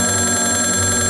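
A telephone rings steadily and loudly throughout, a continuous electronic ring with no voices, cutting off abruptly at the end.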